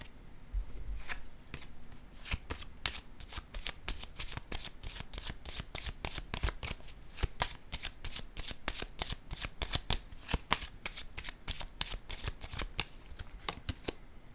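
A deck of playing cards being shuffled, a long run of rapid crisp riffling flutters in close succession, with no talk.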